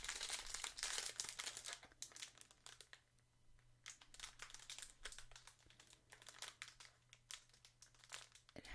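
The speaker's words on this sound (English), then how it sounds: "It has exceptional crinkle value." Plastic packaging around a skein of Knit Circus yarn is crinkled and handled up close in a quiet room, producing bursts of crisp rustling and crackling that pause briefly before starting again.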